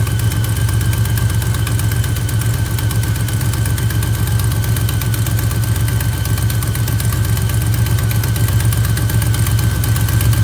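A 1976 Plymouth Gran Fury wagon's engine idles steadily with its hood open, a continuous loud low rumble and mechanical whir that may include air-conditioning compressor noise, running alone without speech for the whole stretch.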